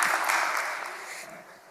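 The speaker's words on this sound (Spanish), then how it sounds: "un aplauso para Jacada" Applause from a conference audience at a cybersecurity ethics talk, a dense wash of clapping that starts full and fades gradually toward the end.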